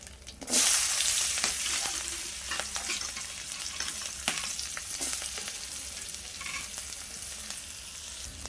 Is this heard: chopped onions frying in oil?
yes